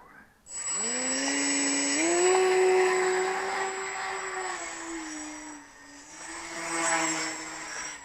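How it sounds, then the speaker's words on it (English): A Pfalz E1 model airplane's electric motor revs up from quiet into a steady high whine, rising and easing slightly, dipping briefly, then surging again, close and loud. "I'm going to put it on full right rudder trim. Like that. And test the motor."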